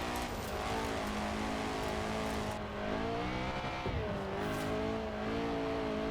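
A Lancia Fulvia engine in Forza Horizon 4 revs steadily in a buzzy, high-pitched drone, with one gear change partway through and tire noise under it, loud and continuous, no talking.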